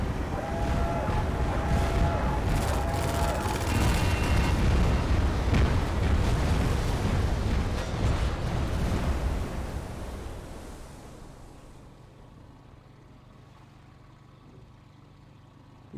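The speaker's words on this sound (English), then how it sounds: "That's a lot of bombs." A heavy, rumbling barrage of explosions in Half-Life 2 rolls on for about ten seconds, loud and continuous, then fades into a low, quiet hum.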